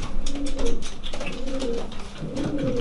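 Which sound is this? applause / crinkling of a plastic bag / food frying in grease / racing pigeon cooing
racing pigeon cooing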